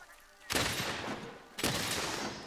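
Spread ammo fires twice in a monster-hunting action video game, two loud, broad blasts about a second apart, each with a short ringing tail.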